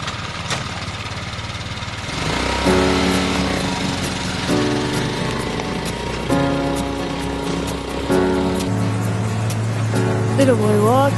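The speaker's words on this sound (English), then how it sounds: "the rickshaw purred like a happy feline as we pulled away" A small auto rickshaw engine revs and idles, rising in pitch as the rickshaw pulls away toward the Sumatran highlands, steady motor hum running throughout.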